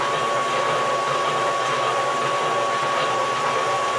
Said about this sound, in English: you can hear the noise of the lathe, and you can hear when the weight is being picked up and when it's been dropped off the other side